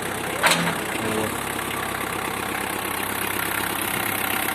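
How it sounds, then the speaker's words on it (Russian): A Japanese mini tractor with a front loader runs at a steady idle, its engine chugging evenly and close by, with a brief louder clatter near the start. "Трактор работает чисто, мягенько."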